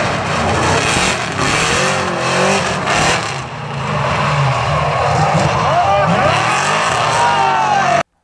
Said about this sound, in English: Second event on Drift Games was to hit the soccer ball while in a drift into a goal.